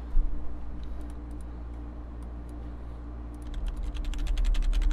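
Keys clack on a Titan gaming keyboard over a low steady hum, with a few scattered presses that turn into a quick, busy flurry of typing at the end.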